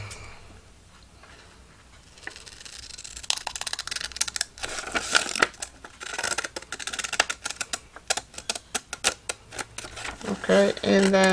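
Scissors snip through paper while a collage envelope and folio for a junk journal are made, giving quick irregular cutting bursts that come and go under talk, growing busier toward the end.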